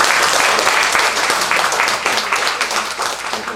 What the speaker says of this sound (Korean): 우리 한번 감사하죠. 감사의 박수